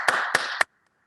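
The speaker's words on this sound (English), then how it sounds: "Unmuting to applaud." Three sharp hand claps over a video call, evenly spaced and close, sounding thin and compressed, followed by abrupt silence as the audio cuts out.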